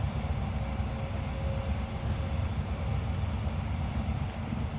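Inside an ICE high-speed train near Cologne, a steady low rumble and rushing hum from the train in motion fills the carriage continuously, with no voices present.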